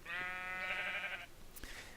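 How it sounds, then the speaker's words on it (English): A brown sheep in Minecraft gives one drawn-out bleat that lasts about a second, close and fairly clear, followed by a brief faint click. "there's another brown sheep right there"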